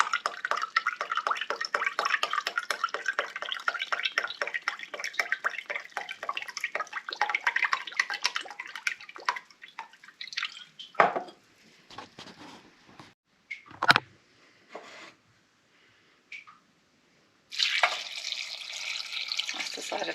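Cider vinegar pours into a pot for hawthorn ketchup in a close, splashing stream that trickles off into scattered drips, with a few clinks and a short burst of pouring near the end.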